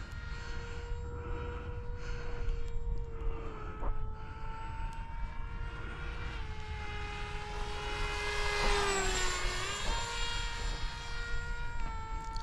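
FF-35V2 RC airplane, 6-inch prop version with an F40 T drone motor, flying with a steady high-pitched electric motor and propeller whine that rises and sweeps in pitch as it passes overhead, loud and continuous.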